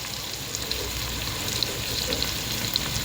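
Whole spices sauté in hot oil for a vegetable biryani, a constant close crackling sizzle with tiny scattered pops throughout and no voices.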